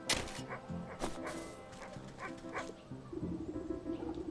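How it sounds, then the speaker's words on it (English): An anxious sheepdog in the video game Wytchwood barks and yips in quick, frantic bursts, close and continuous over a layered game soundscape. "This anxious little dog attempts frantically to get a town guard's attention"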